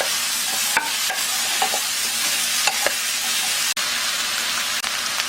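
Onion, chili pepper and paprika stir-fried in a pan: a steady close sizzle broken by periodic scrapes and clicks of the spatula against the pan, with no one talking.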